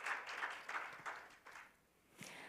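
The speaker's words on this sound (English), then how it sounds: "could you please give her another round of big applause?" An audience at a conference forum applauds steadily in a large room, the clapping fading somewhat before a brief final swell.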